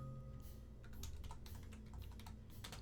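A computer keyboard is typed on in bursts of quick, close clicking and key taps, fairly quiet, with a low steady hum in the room beneath.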